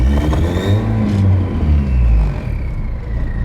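A twin-turbo Honda Civic pulls away in first gear, its engine rumbling and revving loudly close by, then easing off near the end, with no voices over it.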